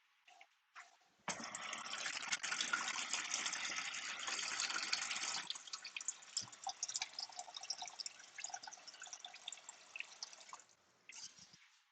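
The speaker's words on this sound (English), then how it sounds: "add a little more water to our development just to wash all the excess stuff off" Water pours and splashes steadily into a tray to rinse excess chemistry off a developing cyanotype print, a close gushing stream that continues for several seconds and then trickles into drips.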